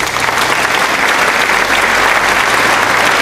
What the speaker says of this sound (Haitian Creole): merci bâti un applaudissement pour monsieur James